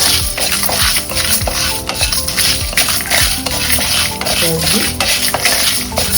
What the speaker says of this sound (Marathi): तेलाचा वापर न करता हे भाजून घ्यायचे आहे।